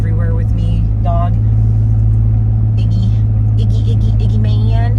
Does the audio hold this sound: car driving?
yes